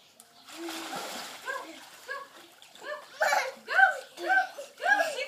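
A child splashes in water while swimming, with bursts of splashing mixed with giggles and laughter, close and fairly loud, rising in rhythmic waves toward the end.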